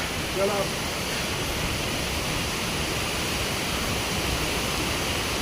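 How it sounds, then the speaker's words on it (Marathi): Waterfall near Kasheli beach in the rain, a dense continuous roar of falling water, loud and steady for the whole stretch with no break. "हा इकडे वरचा धबधबा आहे"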